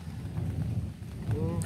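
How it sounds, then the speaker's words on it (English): A low rumble of thunder rolls steadily through the short stretch, deep and fairly loud, with a faint voice near the end. "Did you hear that thunder?"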